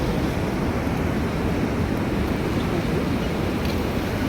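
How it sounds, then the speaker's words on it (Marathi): Water from the fully opened gates of the Chowka dam on the Terna river rushes downstream in a loud, dense, unbroken roar, with wind buffeting the microphone and no speech. "ते पाणी इकडं खाली चाललेलं आहे"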